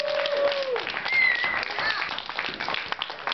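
Audience at a film screening introduction applauds steadily, dense clapping throughout with a few voices and whistles above it.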